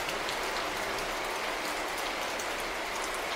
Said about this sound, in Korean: 비가 오던 어느 날